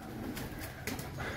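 A pigeon coos softly nearby, a couple of short low calls over quiet background noise, with no talk.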